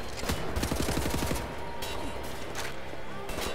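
Rapid bursts of automatic gunfire in the Wolfenstein: The New Order video game, a dense fusillade of loud close shots, then scattered single cracks and clatter.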